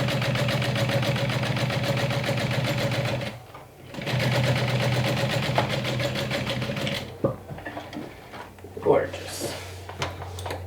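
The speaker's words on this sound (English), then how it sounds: "And the extra stitching on the side, just to hold on to the pocket better" Sewing machine stitching along the side of a vinyl bag pocket, a close, steady mechanical whir with a brief pause midway, then stopping as handling sounds and a voice take over.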